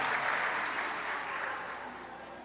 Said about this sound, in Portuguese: Você pode aplaudir uma vez mais esses meninos aí